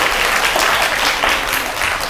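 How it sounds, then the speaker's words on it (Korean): An audience claps steadily to welcome a Kyungpook National University professor to the stage at the Friday Science Touch public lecture in Daegu, a dense, even roar of hands lasting the whole stretch with no voices over it. "경북대학교 엄인철 교수님 큰 박수로 환영해 주시길 바랍니다."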